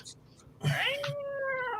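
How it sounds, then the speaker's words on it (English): A cat gives a loud, drawn-out meow with a wavering, caterwauling tone, preceded by faint background noise and sustained to the end. "I hear a cat."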